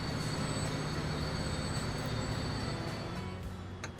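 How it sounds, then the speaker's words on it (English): Oil trains in Transport Fever 2 rumble past on a railway, a steady close rolling roar of wagons with faint wheel squeal held throughout, and no talk. "There goes our oil trains."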